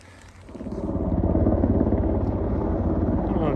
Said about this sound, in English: I don't know exactly what that helicopter's doing,